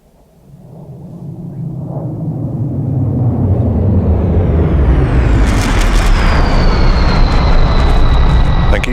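An aerobatic display aircraft swells from a distant rumble to a loud, sustained roar as it flies past, with a rising whine near the end and no talk over the noise.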